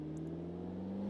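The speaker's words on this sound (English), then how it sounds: "you can hear the turbo spool even at idle" A GT3 race car in a racing video game idles with a steady, even engine hum and a faint turbo spool whine, close and continuous with no talk.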